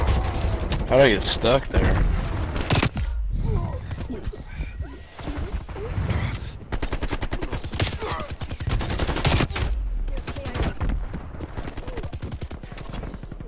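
Pistol shots from two guns crack out in rapid bursts in Call of Duty Cold War, loud and repeated across the scene, mixed with game effects and someone talking over the gunfire.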